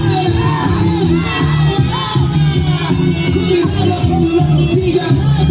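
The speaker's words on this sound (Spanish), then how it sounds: "Fuerte los aplausos para ellos." Spectators at a carnival dance contest in Chilca, Huancayo, cheer and shout loudly over strong, rhythmic band music, a dense, lively crowd din that persists without letup.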